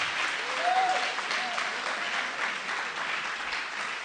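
Church congregation applauding together during a French-language worship service, a steady, dense wash of clapping that holds at even loudness throughout, with a brief raised voice or cheer early on.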